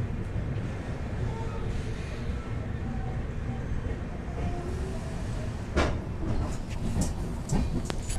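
The Chennai–Bangalore Mail Express rolls on past Katpadi Junction with a steady, loud rumble from inside the carriage, faint rhythmic clicks of the wheels on the rails rising near the end.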